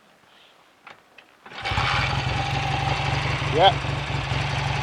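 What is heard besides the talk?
BSA A65 Thunderbolt motorcycle engine restarting and idling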